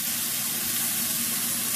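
Mushrooms, onions and flour sizzle in a pan with a steady, dense, close hiss that carries on without a break and has no talk over it.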